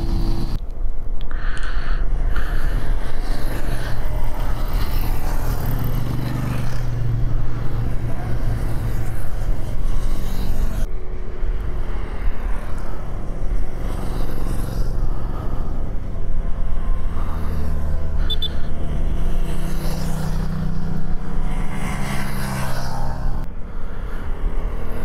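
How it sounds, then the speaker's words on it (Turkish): Group of motorcycles passing on a winding road near Çukurköy, Menemen, İzmir: a steady loud engine rumble that swells and fades as bikes go by, close and continuous, no talk. "sanırım son motorcu da geçti"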